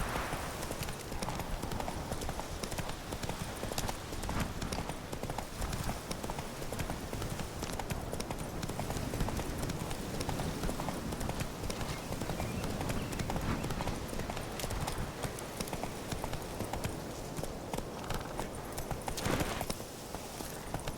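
Roach, a horse in The Witcher 3, gallops at a steady pace, hoofbeats clip-clopping in a continuous rhythm over constant ambient game noise for the whole stretch.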